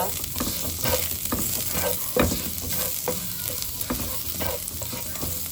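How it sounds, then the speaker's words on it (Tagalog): Garlic sautéing in a little oil gives a steady, close crackling sizzle, broken by repeated scraping stirs from a utensil against the pan. "dito rin natin igisa ang bawang"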